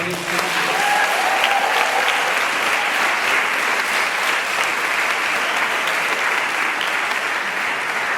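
A large audience on a college campus applauds its returning alumni in a dense, sustained wash of clapping that stays loud and even throughout, with no voices standing out.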